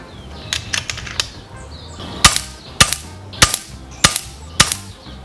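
An air gun firing JSB KO .177 slugs: five sharp, evenly spaced cracks, each with a short ring of impact, over faint background clicks.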